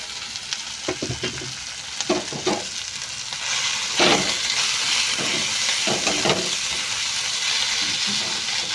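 Ground dry chilli and cumin paste hitting hot oil in a pan while cooking fish, giving a loud steady sizzle and hiss with short stirring scrapes and bursts of spattering, close up and without talk.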